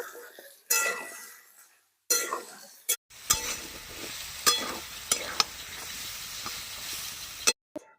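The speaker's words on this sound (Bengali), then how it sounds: "আবারও ভালো করে লাড়ব" Hog plum pickle with turmeric and salt stirred in a pan, with intermittent bursts of sizzling and scraping strokes between short silent gaps, close and moderately loud.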